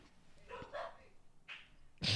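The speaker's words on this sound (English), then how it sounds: "Dogs are barking." Dogs bark in a few short, moderately loud bursts, one near the middle and a louder one right at the end, with quiet gaps between.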